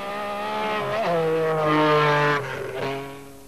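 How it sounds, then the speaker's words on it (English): MG Metro rally car storming up Pikes Peak in 1987, a loud, buzzy engine revving hard through quick gear shifts, the pitch stepping down and climbing again, close and alone. "An MG Metro."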